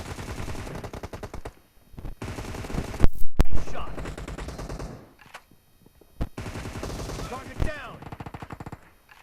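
Gunfire in the mobile battle royale PUBG Mobile, with rapid automatic bursts and single shots in loud clusters separated by short quiet gaps, one especially heavy volley near the middle.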